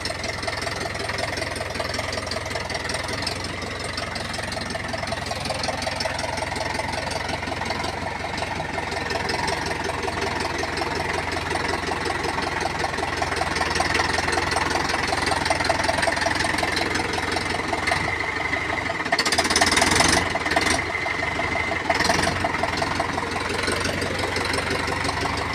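A Mahindra tractor engine, a 575 DI or 475 Tech+, labours through mud with a continuous loud diesel drone and knocking rumble, rising in intensity near the end with a brief harsher burst.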